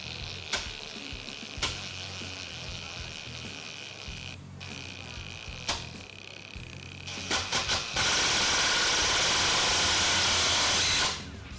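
DeWalt 887 impact driver driving 2.5-inch screws at speed setting 3 with its variable-speed trigger, starting with short bursts, then a sustained loud, rapid hammering rattle of several seconds as the screw is run in close by.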